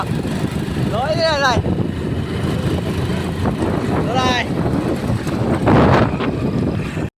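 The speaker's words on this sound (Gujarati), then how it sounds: "પવન બહુ શરૂ થઈ ગયો છે" Strong wind at the onset of a storm with rain roars steadily and loudly into the microphone, a constant buffeting rush, with a couple of brief voices heard faintly through it.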